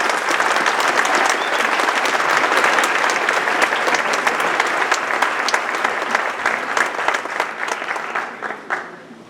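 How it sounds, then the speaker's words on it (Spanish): Strong auditorium applause at a congress on enigmas and mysteries of the cosmos greets Ricardo González, a loud, thick wash of clapping that holds steady and then thins out and fades over the final seconds. "Vamos a darle un fuerte aplauso a Ricardo González."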